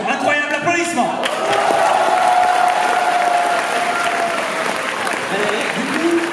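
Convention audience at a manga fan event bursts into loud sustained applause with cheers and whoops, following a brief stretch of amplified speech.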